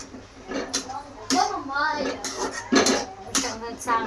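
Peanuts being roasted and stirred in a pan while cooking an eggplant dish, with intermittent metallic scraping and clinks of the spoon against the pan under a person speaking.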